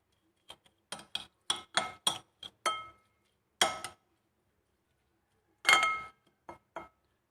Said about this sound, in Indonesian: Aduk sampai gula merahnya larut.